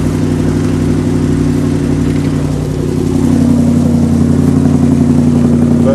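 A V8 engine in a Toyota Hilux monster truck runs loud and close on a rough exhaust, a steady throbbing drone that swells slightly as it revs.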